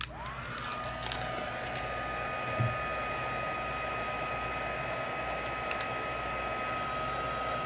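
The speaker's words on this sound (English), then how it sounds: "And I'm going to bring out my heat gun." Heat gun blowing hot air over a stamped paper craft piece, a steady loud whooshing hum with a faint high whine that runs unbroken throughout.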